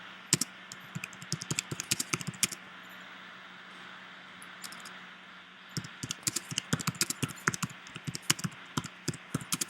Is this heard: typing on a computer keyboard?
yes